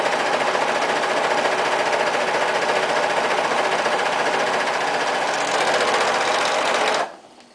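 Serger sewing machine running steadily as it stitches the corners of a cloth wipe, a fast continuous mechanical whir at close range that stops abruptly near the end, with no talking.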